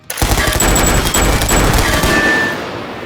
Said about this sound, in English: Once in range, boys joyfully opened fire.